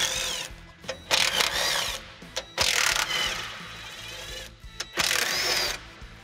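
Ratchet wrench backing out 15 mm bolts from the transfer case skid plate of a Chevy Silverado, in several bursts of rapid metallic clicking separated by short pauses, close and clear with no talk.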